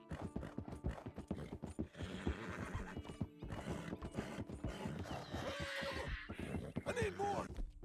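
A horse whinnies and hooves clop along amid busy game effects in Red Dead Redemption 2, with someone talking over much of it.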